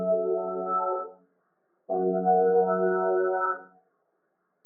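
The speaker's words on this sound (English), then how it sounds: "for the chords I actually went into Keyscape and I just used the default sound," Soft, sine-like chords played on the Keyscape default sound: two sustained, pure-toned chord swells separated by a short silence, gentle and alone.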